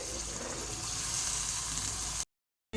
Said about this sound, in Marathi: मी आता हे तेलात मी भाजून घेणार आहे